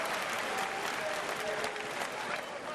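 Large conference audience at Bethesda's E3 2019 showcase breaks into sustained applause with cheering, a dense continuous wash of clapping that stays loud and steady throughout.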